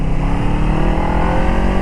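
A KOVE 250RR Thornbird small racing motorcycle's engine runs hard and steady, a loud, dense, sustained roar with no voices and no clear rise or fall in pitch.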